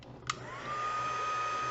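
A heat tool blows steadily to dry shaded spruce paint after a brief click on, its whirring airflow rising and holding a constant high whine close by.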